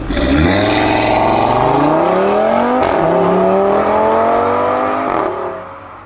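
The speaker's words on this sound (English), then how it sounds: "5-cylinder engines are one of the most refined engines out there, and also the best sounding" A Volvo five-cylinder car engine revs loudly and steadily, its pitch climbing, a brief gear shift, then climbing again before the sound eases off at the end.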